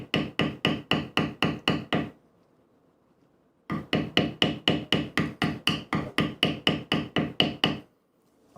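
A mallet strikes a bevel tool into leather while tooling a Roper wallet, giving steady rhythmic close taps, about a dozen in a run, a pause, then a longer even run of strikes, with no talk.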